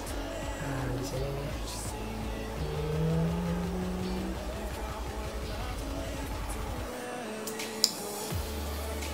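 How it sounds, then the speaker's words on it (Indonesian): Two Yamaha R15 sport motorcycles overtake at high speed, their engines whining in rising and shifting tones before the sound drops away, fairly faint and distant. "ada dua biker yang menggunakan Yamaha R15 menyalip dari kanan, dan itu sangat kencang dan langsung menikung ke kiri"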